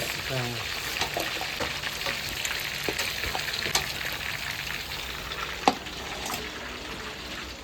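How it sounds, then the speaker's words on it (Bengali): Chicken pieces frying in hot oil in a home kitchen, a steady soft sizzle with occasional clinks and stirring sounds, fairly quiet throughout. "তো এইভাবেই আমরা এক এক করে ভেজে নেব"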